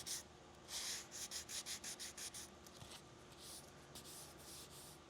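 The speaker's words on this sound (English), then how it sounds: "Now I'm going to use my sandpaper to ride that contour and help me feather that area out" Sticky sandpaper rubbed by hand over the curved body contour of a 1935 Packard, a quiet run of short rhythmic scratchy strokes, about ten in quick succession, then looser intermittent rubbing.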